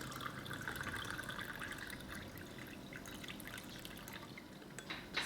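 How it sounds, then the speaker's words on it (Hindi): Water is poured into lemon syrup to make a simple lemonade, giving a faint, continuous trickling and splashing with a small burst near the end and no speech. "इसमें बस हम पानी ऐड करेंगे"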